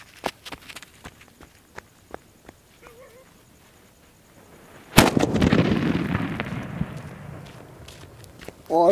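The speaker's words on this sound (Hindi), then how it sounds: "अब टेस्ट करते हैं इस सरकार की सूतली का और देखते हैं ये कैसे चलती है।" A sutli bomb, a twine-wrapped Diwali firecracker, bursts with a single loud blast outdoors after several seconds of faint crackling and scattered ticks, its boom echoing and decaying over a few seconds.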